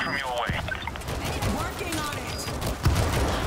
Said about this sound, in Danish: Der er skud lige ved siden af os.